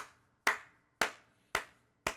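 A slow-clap sound effect from a video game's rejoice emote: four sharp, loud hand claps spaced evenly about half a second apart, each ringing off briefly, with nothing else around them.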